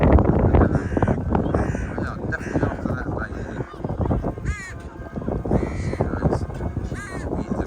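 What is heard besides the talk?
crows cawing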